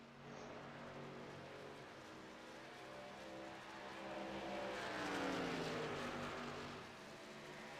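Race cars in a sim racing game at Darlington speedway roar steadily, with one car swelling louder as it flies past around the middle before the engine note fades back into the continuous pack drone.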